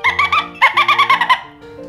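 A human voice imitates a dolphin with rapid, high squeaky chirps and clicking whistles in two quick bursts, close and loud, with a brief pause between them and a softer tail.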